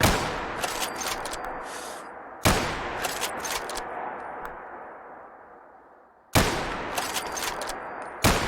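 Macmillan bolt-action rifle shots ring out in Fallout 4 survival mode, three loud, sharp reports spaced several seconds apart, each trailing off in a long echoing decay.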